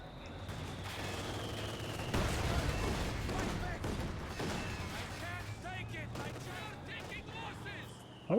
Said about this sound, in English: Dushka setting up with armor piercing rounds. Can it get a volley?